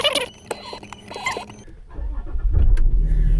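A Land Rover LR4 engine starts after a few clicks and rustles in the cabin, cranking into a low steady idle rumble that grows louder toward the end.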